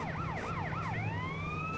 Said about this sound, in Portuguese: A ambulância é muito louca, cara. É mais louca que o... Que a polícia, velho.